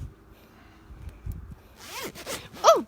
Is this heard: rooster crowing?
no